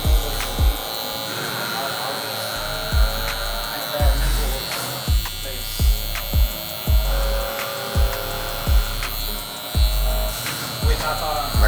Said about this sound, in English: Y'all seen me using this trimmer already on a couple cuts.